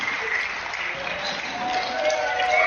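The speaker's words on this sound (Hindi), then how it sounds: "इनके लिए तालियां हो जाए।" A studio audience applauds on a Hindi television show, with a steady wash of clapping at moderate level and a faint murmur of voices mixed in.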